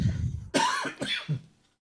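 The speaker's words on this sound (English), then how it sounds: "I've got a cough." A short run of two or three rough coughs, close and fairly loud, fading quickly into silence.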